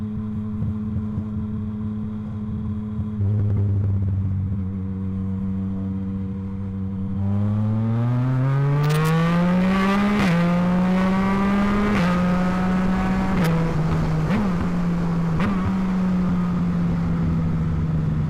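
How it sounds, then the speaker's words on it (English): A Yamaha MT-09 SP motorcycle fitted with a Blackwidow exhaust idles, then revs hard and climbs through quick-shifted gears, its loud rasping note rising in pitch with sharp dips at each upshift. "the sound is just, yeah, so good when you quick shift with an exhaust on this bike"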